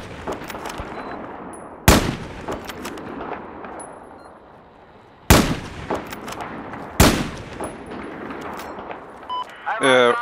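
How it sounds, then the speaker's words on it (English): Several loud, separate gunshots ring out in a Battlefield 4 match amid scattered distant fire. Someone talks between the shots. "There's a guy shooting at us from down there"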